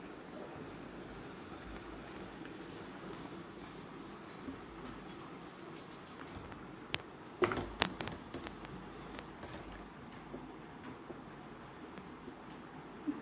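Marker or chalk writing on a board during a lecture on the 8-puzzle problem, a faint continuous scratching under a steady room hum, with a few sharper taps partway through.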